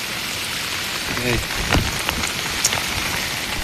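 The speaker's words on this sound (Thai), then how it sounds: "เพราะว่าฝนมันตกลายเนาะ" Heavy rain pours steadily on a forest during a jungle trek, a dense continuous hiss with a few louder drops and faint rustling, and no talking.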